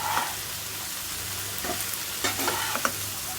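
Yardlong beans fry in a pan on a stove with a continuous sizzle and low hum, punctuated by a few sharp utensil scrapes and clinks toward the end, no one talking.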